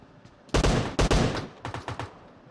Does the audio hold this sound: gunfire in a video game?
yes